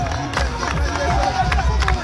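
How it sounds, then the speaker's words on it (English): Police clap for the winners at the May Day sports finals in Banjul, with crowd noise, cheering and chatter mixed loudly through the outdoor scene. "There is a clap from the police."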